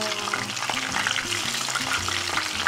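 Pieces of yakiniku meat shallow-fry in oil at a home table, giving a steady, close, dense sizzle and crackle with no talking.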